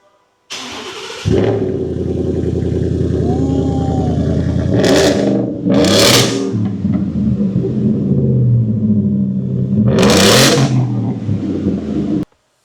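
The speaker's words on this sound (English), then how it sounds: "this thing has an exhaust too now. You know, do the honors and start it for me so I can hear it." A Ford F150 pickup fitted with a new exhaust cranks and fires up, settling into a loud close idle broken by three sharp throttle blips that rise and fall, with no talk over it.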